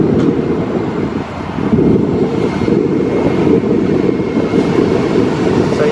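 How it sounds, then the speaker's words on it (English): Train pulling into a station in Portland's OMSI district, Oregon, a steady loud low rumble running throughout with no pauses. "we got the train pulling in"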